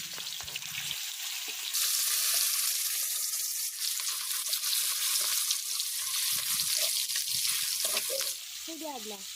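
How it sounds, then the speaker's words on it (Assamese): Fish frying in hot oil in a kadai outdoors gives a continuous bright sizzle that swells after the first couple of seconds and holds steady, close and alone with no voices. "এয়া মই কেৰাহীত তেল দি লৈছোঁ, মাছ ভাজিম এতিয়া।"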